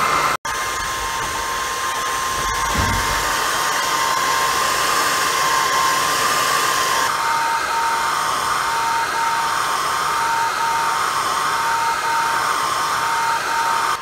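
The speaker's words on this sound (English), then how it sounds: "it's starting to engrave with the laser machine" A laser engraving machine works on wood, giving off a loud, steady whirring hum like a fan or blower with a thin tonal whine, broken by a brief click near the start and an unchanging drone afterward.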